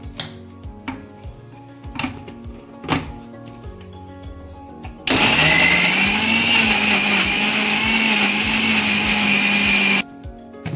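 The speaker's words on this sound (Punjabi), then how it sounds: "ਅਦਰਕ ਪਿਆਜ਼ ਤੇ ਲਸਣ ਇਹਨਾਂ ਸਾਰੀਆਂ ਚੀਜ਼ਾਂ ਨੂੰ ਆਪਾਂ ਇਕੱਠੇ ਗ੍ਰੈਂਡ ਕਰ ਲੈਣਾ ਜੀ ਆਪਾਂ ਹੁਣ ਇਹਨੂੰ ਕਰਾਂਗੇ ਗ੍ਰੈਂਡ" A mixer grinder grinding ginger, onion and garlic for baingan bharta roars on loudly and steadily for about five seconds, then cuts off abruptly, with softer clinks and knocks of kitchen handling before and after.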